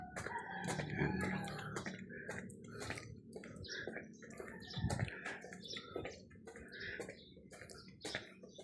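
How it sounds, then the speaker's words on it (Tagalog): Several backyard chickens and young chicks cluck and chatter close by in a busy, irregular flurry, with one louder squawk partway through. "ito yung ating mga alagang manok mga idol"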